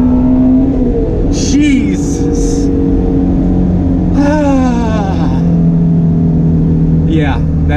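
A 2019 Ford Shelby GT350 roars continuously at close range as it accelerates hard, the engine note climbing through gears, while someone talks and exclaims over it.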